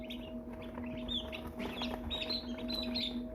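A crowd of American Bresse baby chicks cheeping nonstop in a brooder pen, many overlapping high peeps close by over a steady mechanical hum.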